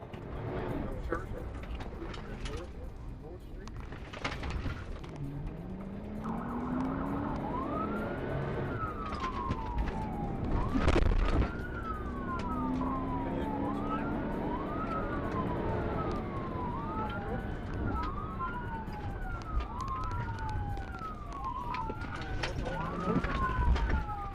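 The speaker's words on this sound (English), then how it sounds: "the officer activated his lights and siren" A police car siren wails in a repeating rising-and-falling pattern over rumbling traffic during a motorcycle pursuit, getting steadily louder and closer.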